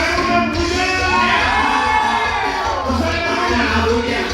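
Wedding guests at a celebration in Ameyaltepec shouting, whooping and cheering together, a loud continuous crowd roar lasting a few seconds.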